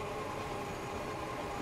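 A train rumbles steadily into a station in the railway-building game Transport Fever 2, a continuous close rolling hum with faint wheel clatter and no talk.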